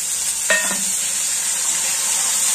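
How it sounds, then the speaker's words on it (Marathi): A tempering of spices sizzles steadily and loudly in hot oil for a broken wheat porridge, with a brief stirring or scraping clatter near the start and no talk over the hiss. "हे पहा, आता आपली फोडणी तयार होतच आली"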